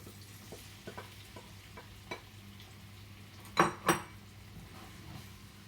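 Onion and tomatoes frying in a pan for a steak sandwich relish, stirred with a wooden spoon: a soft, low sizzle with light scraping taps and two sharper clinks near the end.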